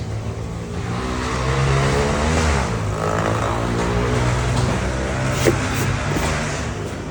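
The engine of a DA17W van runs loudly and close, a continuous throaty drone that holds steady throughout with slight swells in revs and one brief knock near the end.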